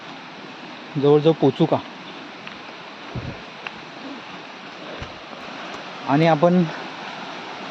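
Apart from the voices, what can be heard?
waterfall water rushing in forest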